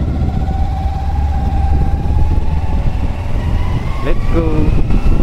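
A motorcycle engine idles as it warms up on a hot day in Serang, a steady, close low rumble throughout, with a brief rising whine near the end.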